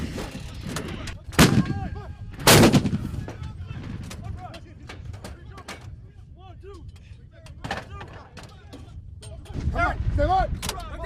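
Rifle gunfire during a military firing drill, with two sharp, loud reports early on and more shots later, under shouted commands and talk.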